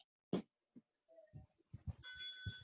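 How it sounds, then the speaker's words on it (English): An interval timer at an exercise class gives a short, bright electronic chime that rings and holds near the end, after scattered thumps and soft movement noises. "the interval timer made a fun little noise"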